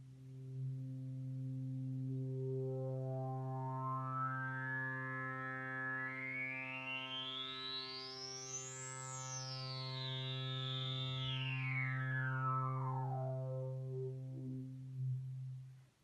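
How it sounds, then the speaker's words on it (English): A sustained Moog Sub 37 synthesizer tone, oscillator 1 driven hard and breaking up with a gritty, overdriven edge, its harmonics sweeping upward then back down over a steady low drone. "I'm driving oscillator 1 pretty hard right now, so it's breaking up a little bit"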